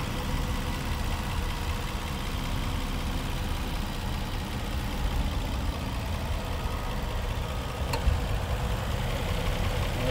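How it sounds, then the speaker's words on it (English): A 2009 Nissan Maxima SV V6 idles steadily with the hood up, a continuous low engine drone, with a brief click-like change around the eighth second as the AC compressor kicks in. "That's the AC compression just kicked in."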